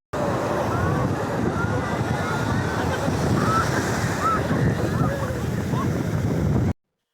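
Sea waves wash steadily onto Kakinada beach on a winter day, a continuous loud surf roar with wind buffeting the microphone throughout, no voices.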